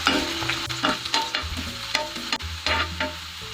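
Chopped medium-sized onion frying in a pan, a steady close sizzle broken by repeated scraping and stirring clatter from a spoon against the pan.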